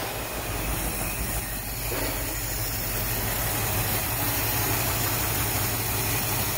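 A 1957 Chevy Nomad, abandoned for 28 years, idles while warming up: a steady low engine rumble with an even, continuous drone, close and unbroken, with no talking.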